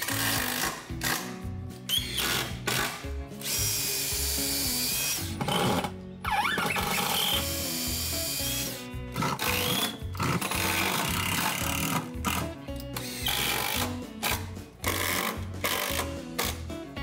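A power drill drives screws to fasten wooden deck boards near a wall, in repeated loud whirring bursts of a second or two separated by short pauses, with clattering handling noise between them.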